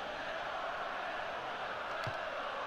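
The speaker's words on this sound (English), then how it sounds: "Crowd getting vocal here at Old Trafford." A football crowd at Old Trafford roars and chants in a steady, distant din throughout, with one brief thump partway through, in PES 2013.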